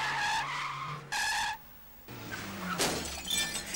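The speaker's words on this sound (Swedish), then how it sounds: "Den här typen av påkörningar, så kallade upphinnande olyckor, är allt för vanliga i dagens trafik." A car skids with screeching tires and crashes into the rear of another car amid shattering glass, loud bursts separated by brief quiet, followed by scraping debris.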